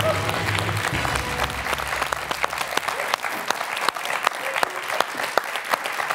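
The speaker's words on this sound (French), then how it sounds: "Astrid, je vous applaudis." A studio audience at a televised quiz show finale applauds the champion, crisp scattered claps building into steady applause, with a low voice murmuring briefly at the start.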